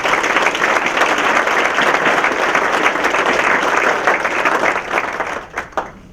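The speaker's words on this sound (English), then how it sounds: "Let's give our investors another round of applause." An audience at a chamber of commerce annual dinner gives a full, loud round of applause for the chamber's investors, sustained many-handed clapping that thins and trails off into a few scattered claps at the end.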